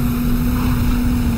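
A sports car engine in the video game Crazy Car Drive holds a loud, steady droning tone as it accelerates up a ramp, constant and close with no talk.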